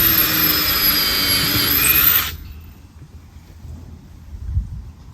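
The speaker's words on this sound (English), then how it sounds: "I'm intentionally staggering the batten screws." A power drill drives batten screws into a new floor, a loud close whine that holds for about two seconds and then cuts off, leaving faint room noise.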